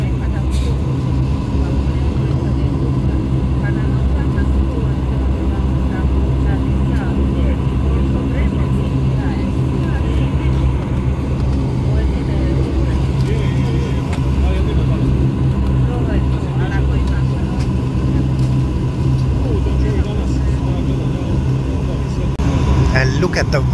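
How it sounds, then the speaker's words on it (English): Airliner taking off from Split airport, with a loud, steady broadband engine and runway roar filling the whole stretch, heard from inside the cabin under occasional voices. "And we are ready for takeoff."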